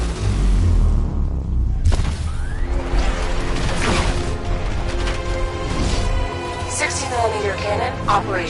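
Batmobile tank cannon firing in Batman: Arkham Knight, a sharp heavy blast near two seconds into a dense wash of game score and combat noise, with voices talking over it.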